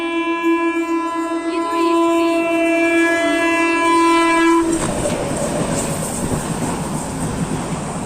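A train blasts a long, steady horn, then loud rumbling and rattling of wagons rolling past close by.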